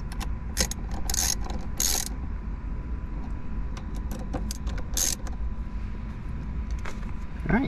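A ratchet tightens bolts on a 2016 ND Mazda Miata during a Nardi steering wheel install, giving short bursts of close metallic clicking spread over a steady low background hum.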